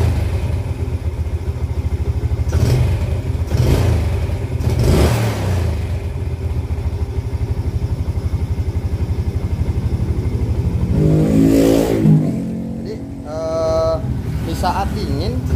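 Yamaha Jupiter Z motorcycle with weak power and a stalling idle, its engine running steadily up close and then revved in bursts, with a sharp rising rev near the end.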